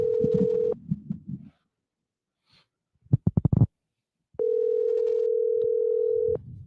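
Two long steady ringback tones with a burst of dialing clicks between them play as a call is placed into a podcast, loud and clean against silence, with no one speaking.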